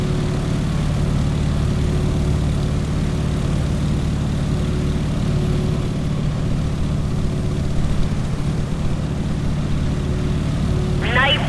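Stearman biplane's radial engine in Microsoft Flight, droning steadily and loud throughout an aerobatic barrel roll, with a voice talking over the engine.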